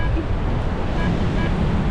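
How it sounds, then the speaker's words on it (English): Strong wind roars by the sea on a snowy day, buffeting the microphone in a steady, loud, close rush with a low rumble beneath and no pauses. "Super windy all day."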